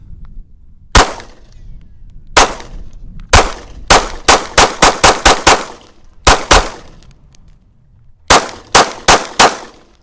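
A Mossberg MC2C pistol fires its first magazine: a dozen or so sharp, loud, close gunshots, first spaced single shots, then a quicker string, then a final short burst after a pause.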